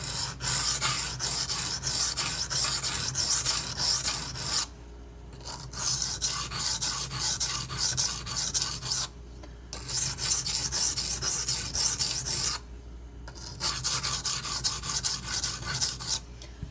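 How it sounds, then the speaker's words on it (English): A Benchmade 9400 knife is ground on a Shapton Glass whetstone in long, continuous raspy strokes, close and loud, interrupted by three short pauses before the grinding resumes, with no voices. "I'm trying not to grind any more than I absolutely have to, because I'm already wasting so much metal getting this out"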